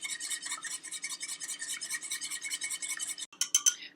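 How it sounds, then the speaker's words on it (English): Egg yolks being whisked into cream for crème brûlée, a steady fast scraping rattle of the whisk against the bowl that runs continuously, briefly pauses, then resumes with a few sharper strokes. "So just slowly add your egg yolks to the cream, whisking constantly."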